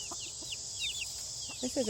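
A hen clucks softly a few times up close, with faint chirpy bird sounds in the background.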